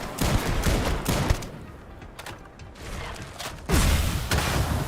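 Dense bursts of weapon fire from the space video game Starfield, rapid repeated shots and booms in clusters with brief lulls, loud and continuous across the stretch.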